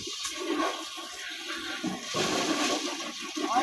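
Water splashing and pouring out while a tent is cleaned outdoors, a steady rushing gush that swells and fades over a few seconds, close by with no talk.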